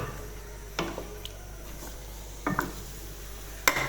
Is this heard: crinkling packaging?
no